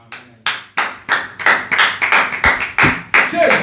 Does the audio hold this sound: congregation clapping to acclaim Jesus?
yes